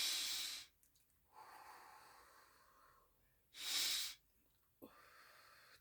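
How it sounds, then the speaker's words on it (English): Two deep, loud breaths, each an inhale then a forceful airy exhale, sound close to the microphone with quiet pauses between them. "Oh, I got to inhale, exhale."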